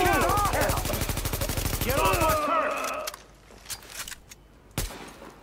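Rapid automatic gunfire in The Division during a siege on the Rikers' stronghold at the Police Academy, a loud sustained burst that cuts off into scattered single shots and impacts, with a voice heard among the fighting.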